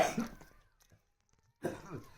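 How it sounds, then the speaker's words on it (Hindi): A sick boy coughs harshly, with two close, rough bursts of coughing separated by a quiet pause. "मतलब बहुत गंदी खांसी हुई इस बार हमारे भैया को।"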